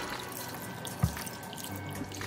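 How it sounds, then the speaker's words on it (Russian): Water poured from a tap or jug into a pot of minced meat, cabbage and rice, a faint steady trickle with one soft knock near the middle and a low hum beneath. "И заливаю водой"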